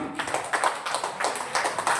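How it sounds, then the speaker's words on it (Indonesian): An audience at a business presentation claps, a dense, moderately loud patter of hands that swells and eases over a couple of seconds. "Tepuk tangan."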